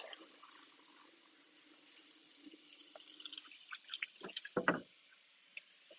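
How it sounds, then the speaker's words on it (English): Water running and splashing at a kitchen sink during washing up, quiet at first, then a burst of louder splashes and drips near the end. "oh my goodness, I just splashed water on me."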